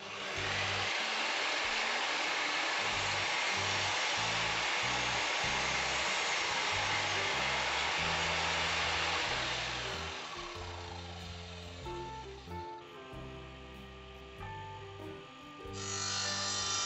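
A power tool cuts a wooden skirting board to length: a loud, close, continuous whining roar that eases and shifts in pitch near the end.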